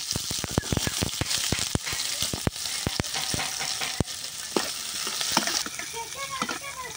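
Chopped onion sizzles in hot oil with fried ginger in a pan, with a rapid series of sharp spatula scrapes and clicks over a continuous close frying hiss.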